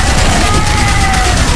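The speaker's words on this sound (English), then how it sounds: "Oh, explosions!" Explosions and gunfire in the zombie survival video game Yet Another Zombie Survivors form a dense, loud, continuous barrage of blasts and shots with no pauses.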